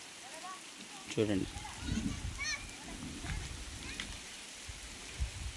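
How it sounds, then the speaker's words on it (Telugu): Rain falls in a tribal village in dense forest as a steady, soft patter, while voices talk nearby over it. "చూసారు కదా, వర్షం పడుతుంది"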